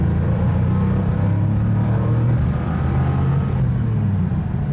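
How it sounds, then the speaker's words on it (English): A 1987 Porsche 911 Carrera's engine drones steadily from inside the car while cruising at about 60 mph, a loud, continuous low rumble with a sustained hum and a slight shift in pitch partway through, and no talking. "we're probably going about 60, but you can really hear the engine noises."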